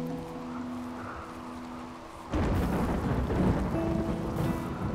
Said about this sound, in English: It's raining now, so we don't have to worry about the fires.